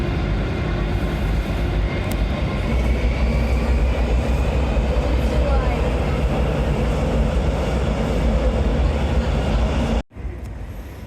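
A Berlin subway train rumbles along steadily and loudly, a continuous heavy roar of wheels and motor that dips briefly near the end.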